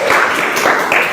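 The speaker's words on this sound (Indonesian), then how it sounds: "Oke, tepuk tangan." Classroom applause from an eighth-grade class, a dense, steady patter of many hands clapping together at close range for about a second, with no talking over it.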